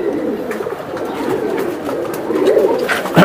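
Silver Giribaz pigeons coo in low, throaty rolls, close and continuous, amid outdoor bustle with a brief louder rustle at the end.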